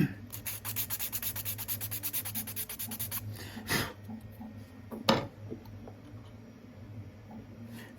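Sanding of a prop helmet part for an X-01 Fallout 4 build, a steady run of rapid rhythmic scratching strokes for about three seconds, then a few isolated scrapes and knocks with quiet pauses, close and fairly soft.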